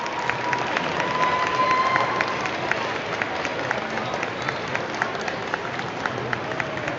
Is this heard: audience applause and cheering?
yes